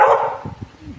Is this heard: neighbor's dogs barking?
yes